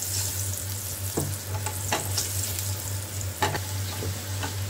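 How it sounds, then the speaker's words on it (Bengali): Cut potatoes fry in hot oil with a steady soft sizzle, broken by a few brief crackles and stirring scrapes, close and fairly quiet. "এরপর আমি এটার তেলের মধ্যে দিয়ে দিচ্ছি কেটে রাখা আলু।"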